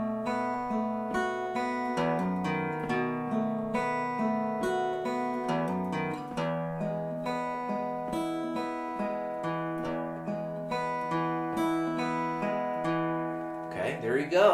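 Fingerpicked acoustic guitar playing the closing four measures of a folk solo, with thumb bass notes under picked melody and ringing chords, steady and close, and no talk.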